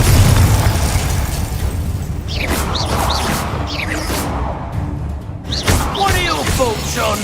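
A Confringo blasting spell going off in the Hogwarts Legacy video game, a loud rumbling boom with dense crackling debris that persists throughout, mixed with other game sound effects.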